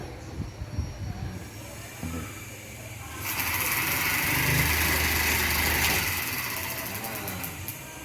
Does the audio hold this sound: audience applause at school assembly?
no